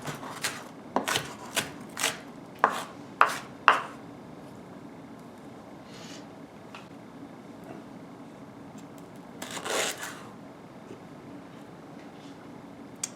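A knife chops half a red onion on a board in a quick run of six or seven crisp cuts, then a quieter stretch with a few scattered taps and one louder rustle, close and fairly soft.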